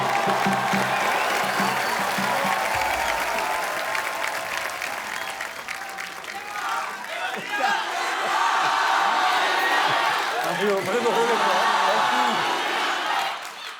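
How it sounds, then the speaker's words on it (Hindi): A television studio audience applauds and cheers for visiting world cup champions on a comedy talk show, a loud sustained wash of clapping with whoops and shouts that swells again toward the end, with a host's voice mixed in. "जोरदार तालियां हमारे चैंपियंस के लिए।"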